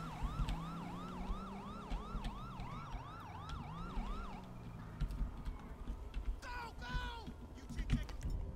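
Barcelona police siren from the GTA V LSPDFR mod wails in steady rising and falling cycles for about four seconds, then cuts off. A few short yelps follow while someone talks over the engine and traffic noise.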